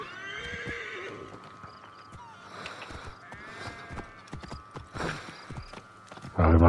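A horse in the Assassin's Creed Origins video game whinnies close up near the start, followed by clopping hooves and scattered game sounds, ending in a sudden loud burst.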